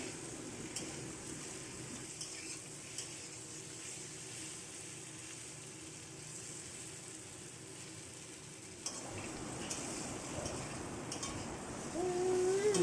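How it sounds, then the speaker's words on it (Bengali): Potato and pointed gourd pieces frying in a pan, with a quiet, continuous sizzle and occasional stirring that grows a little louder near the end. "আলু পটল ভাজাটা মোটামুটি হয়ে গিয়েছে"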